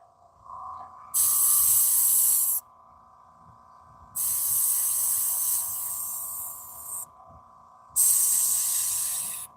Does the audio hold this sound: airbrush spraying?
yes